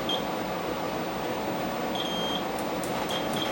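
An M82 device emits a few short, high electronic beeps over a steady background hum, faint and spaced irregularly with no talking.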